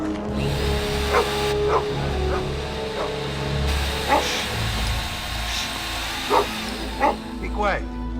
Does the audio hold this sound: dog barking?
yes